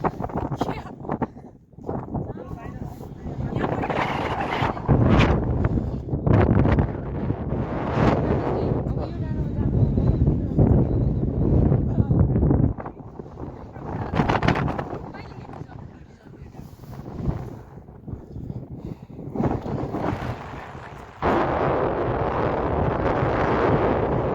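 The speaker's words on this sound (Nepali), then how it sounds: "एकदम धेरै हावा यसो। रहेछ।" Strong wind gusting against the microphone at a high mountain viewpoint in Nepal, a loud, steady rumbling roar that swells and dips, with people talking through much of it.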